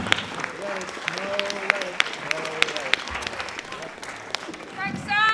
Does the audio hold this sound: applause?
yes